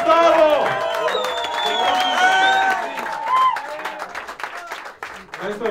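A crowd at a freestyle night in a bar applauds and cheers a welcomed guest, clapping and whoops mixed with excited voices, loud and close, with a person talking over the cheering throughout.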